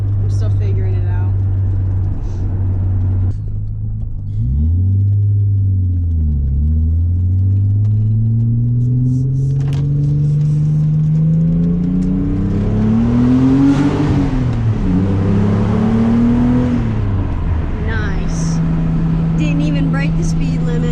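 A 1993 Nissan 300ZX engine drones while driving, a loud continuous rumble whose pitch dips and climbs with shifting and acceleration, heard from inside the car with cabin noise.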